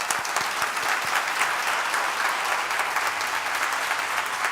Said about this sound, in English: I just want to give him a round of applause as well.